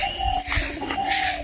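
Pigeons coo close by near harvested paddy in a Bangladeshi village, a brief, moderately loud burst of cooing with no talk.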